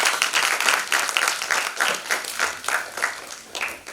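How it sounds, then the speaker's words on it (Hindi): An audience at a stage event welcoming a guest claps in a steady rhythm, with each beat landing at an even pace, moderately loud and close, and no talking over it. "जोरदार तालियों से आप।"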